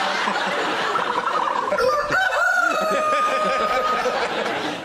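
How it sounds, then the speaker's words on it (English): An ostrich call played back from a recording, a loud, continuous rough booming and hooting with tonal, rising-and-falling strands, audible throughout nearly five seconds at steady level. "And this is the sound of an ostrich."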